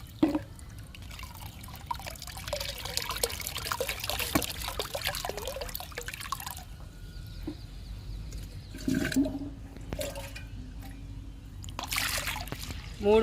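Liquid fertilizer poured by mug into a 10-litre bucket of water, giving a steady splashing trickle with drips, a short break, then more pouring.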